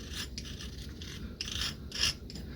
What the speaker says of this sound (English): your little drag clicker, you can bend that up a little bit